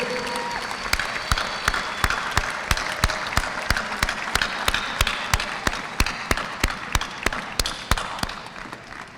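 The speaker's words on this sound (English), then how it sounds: "How about another big round of applause for our top scholars?" A high school graduation audience in an arena gives a long round of applause, a steady wash of many hands with sharp, rhythmic claps standing out close by, echoing in the large space.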